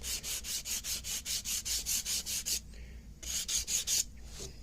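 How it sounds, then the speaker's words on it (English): Sandpaper rubbing on an old wooden gunstock in quick, even back-and-forth strokes, a close, dry rasping rhythm that pauses briefly and then resumes. "Take your time, get the sandpaper at just the right angle."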